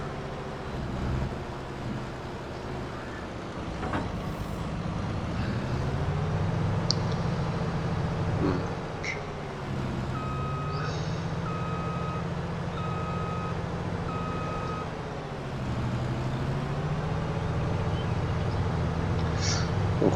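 A tractor rumbles steadily in Farming Simulator 22 during maize silage work, its engine drone rising and dipping with load, close and continuous, while a series of reversing beeps sound partway through.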